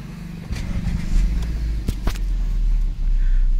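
A Hyundai Xcent SX petrol engine idles with a low, steady rumble, close by, broken by a couple of faint clicks and a brief dip near the end.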